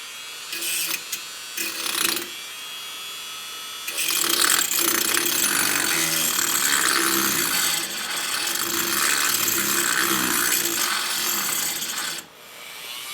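A wire wheel turning at low speed scours caked rust from a universal joint, a harsh scratchy grinding in short bursts at first, then a long, steady abrasive whirr that stops abruptly near the end.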